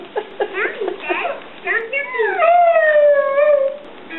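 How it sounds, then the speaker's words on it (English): A malamute dog howls along to music, rising yips and whimpers sliding into a long, wavering sustained howl, loud and close, with faint voices in the background. "That dog knows how to sing the blues."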